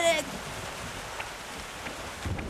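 Rain falls in a Vikings video game as a constant soft hiss, with a few faint drip-like taps and a low rumble near the end.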